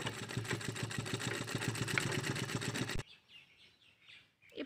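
A sewing machine runs steadily for about three seconds, stitching fabric for a simple popcorn pouch in a fast regular mechanical pulse, then cuts off into near silence with faint background noise.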